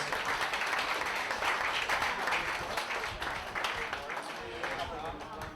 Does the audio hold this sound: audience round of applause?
yes